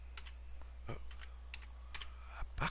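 Typing on a computer keyboard, irregular clusters of quick light key clicks close by and faint over a low steady hum, with no talking.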